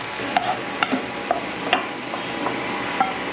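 Fish mango curry cooks in a pan as it is stirred, a low steady simmering sizzle punctuated by quick light clinks and scrapes of a spoon against the pan, with no talking.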